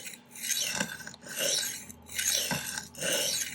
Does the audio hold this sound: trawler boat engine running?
no